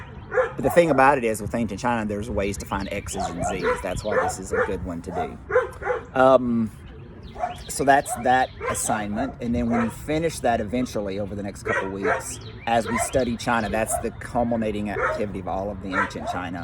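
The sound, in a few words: dogs barking outdoors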